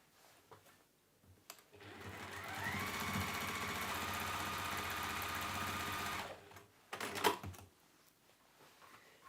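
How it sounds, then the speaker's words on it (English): A sewing machine top stitches a fabric book sleeve in one steady, fast run of about four seconds, with quiet handling noises before and after and a short clatter near the end. "we're going to top stitch along there as well"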